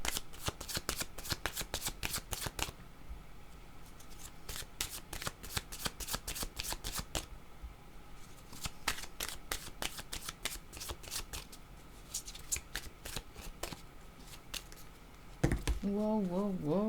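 A deck of playing cards being shuffled, with rapid riffling bursts repeating in quick runs through most of the stretch, close and crisp, and a short voice at the very end.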